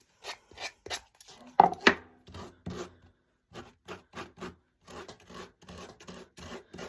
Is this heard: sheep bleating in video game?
no